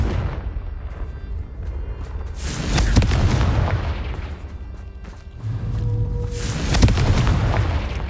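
The Confringo fire spell in Hogwarts Legacy explodes in two loud booming blasts a few seconds apart, each followed by a rumbling roar that slowly fades.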